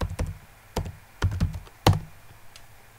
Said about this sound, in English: Type the current user password.